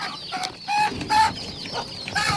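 Baby chicks cluck and cheep in short, bright bursts as homemade feed is set out for them, with several calls overlapping close by and no talking.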